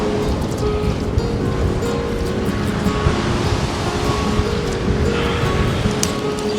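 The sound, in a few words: ocean waves breaking on a beach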